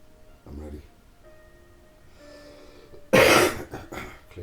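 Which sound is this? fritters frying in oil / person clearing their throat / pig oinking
person clearing their throat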